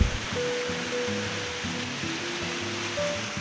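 Waterfall near Adalur in Dindigul's hills, a constant wash of falling water with a faint musical tone drifting over it, steady and fairly close.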